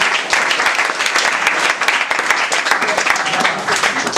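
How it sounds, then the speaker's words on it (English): An audience at a student English-speaking competition claps steadily and loudly for the performers, a dense continuous patter of many hands throughout. "You can clap your hand once more for them."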